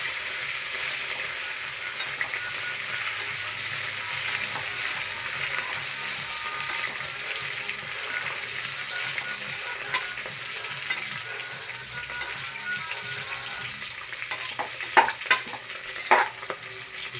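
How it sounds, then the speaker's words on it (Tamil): Ingredients are stirred and sautéed in a pan over a low flame, giving a steady frying sizzle with soft scraping. Near the end a few louder clinks of the spoon against the pan come through, and no one speaks. "அப்படியே இதே ஒருக்கா கிண்டி விட்டோம்னா நல்லா அப்படியே இதையும் நல்லா அப்படியே வதங்கணும்"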